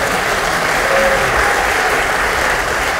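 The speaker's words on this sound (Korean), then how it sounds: "큰 박수로 응원해 주시길 부탁드리겠습니다" A crowd of lawmakers at a Democratic Party workshop breaks into loud, dense applause, continuous and close, holding a steady roar of clapping from start to finish without a break.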